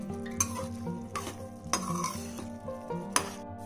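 Paneer do pyaza, with garam masala powder and fresh fenugreek leaves just added, is stirred in a pan: a spoon knocks and scrapes in several sharp strikes over a soft sizzle, and no one speaks.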